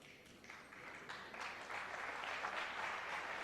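A knowledgeable crowd at the 2002 World Pool League final applauds Steve Davis's pool shot attempt against Efren Reyes: steady, sustained clapping throughout, swelling slightly toward the end, with no voices over it.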